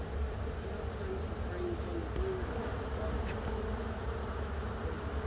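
Honey bees buzz steadily around an opened beehive super at a nature center, a continuous low insect drone filling the whole stretch with no breaks and no talk.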